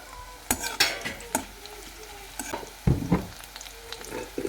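Chopped onion and crushed garlic fry in a hot pan, a steady sizzle broken by sharp scraping and clattering as the mix is stirred, close and fairly loud, with no talking.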